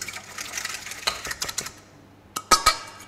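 Two eggs are lightly whisked in a bowl, giving quick, irregular clicking taps of a whisk against the bowl and a soft liquid slosh, close and clear with no talking.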